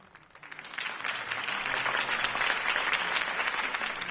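Crowd applause at a Harvey Dent campaign rally in the Telltale Batman video game: a dense, steady wave of clapping that swells in within the first second and holds loud to the end.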